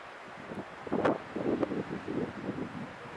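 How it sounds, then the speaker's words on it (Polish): On a mountain trail near Błatnia, wind blows in soft, uneven gusts that buffet the microphone, rising and falling over about three seconds with no speech. "Jak zwykle wieje"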